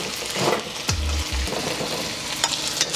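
Chicken pieces sizzling in a wok for chow mein, a close, steady fry hiss with a few clanks and bumps of the pan.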